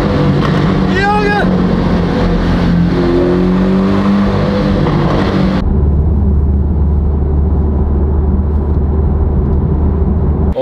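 A Porsche sports car engine accelerating hard, loud rising revs climbing through the gears from close inside the car, then settling into a lower steady drone, with people talking excitedly over it.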